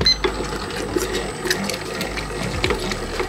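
A stand mixer kneading high-hydration pizza dough whirs at a slowish speed, with rhythmic mechanical ticking and clattering close by, steady and fairly loud with no talk.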